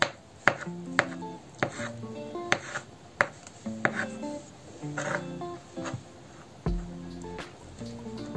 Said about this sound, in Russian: нарезаем на кубики.